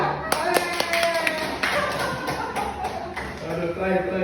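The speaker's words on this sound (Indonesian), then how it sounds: "Tepuk tangan buat semuanya." A small audience claps in scattered, uneven bursts with a few sharp individual claps, fairly close, while voices murmur underneath.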